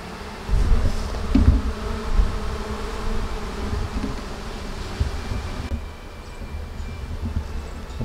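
A swarm of honeybees buzzes steadily outdoors, a dense droning hum that carries on for several seconds with wind rumble and rustling mixed in, fairly even in loudness with no talking.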